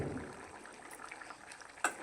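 Palak paneer gravy with chunks of paneer bubbling in a pan as it comes to a boil, a soft steady simmering hiss with small pops and one sharper blip near the end, quiet and close.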